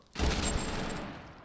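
Sniper rifle fire in a stick-figure war simulator game: a single sharp shot with a sudden onset and a booming tail that fades over about a second, no talk.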